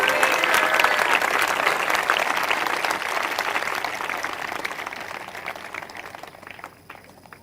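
A church congregation at a Sunday evening prayer meeting claps loudly together, a dense burst of applause that gradually fades away over several seconds with no voices over it.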